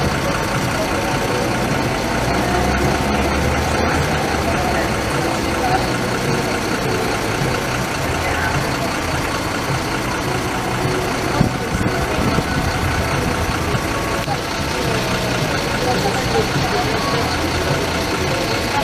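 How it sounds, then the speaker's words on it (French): Engines of passing vehicles rumble steadily outdoors, a continuous mid-pitched motor drone at moderate distance with wind, no clear talk over it. "il y a le bruit des moteurs"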